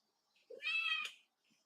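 A pet cat gives a single clear, close meow, preceded by a faint short chirp and followed by quiet.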